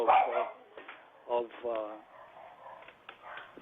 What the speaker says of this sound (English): excuse the dog